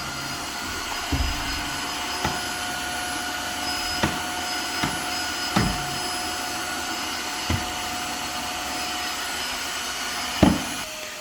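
A Tineco Floor One S3 wet vacuum cleaner runs with a steady whining motor drone and constant whir, broken by several soft thuds and bumps as it moves across the floor, close and without speech.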